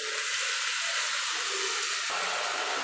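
A paste of ginger, garlic and whole cumin hits onions frying in oil for a mutton curry, producing a close, steady sizzle and hiss that shifts slightly near the end, with no talking.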